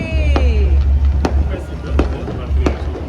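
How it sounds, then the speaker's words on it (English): Fireworks bursting over Puerto Vallarta, heard from a hotel balcony: four sharp, distant pops spaced about a second apart, over a steady low rumble of city and crowd noise. "got to see fireworks from our balcony"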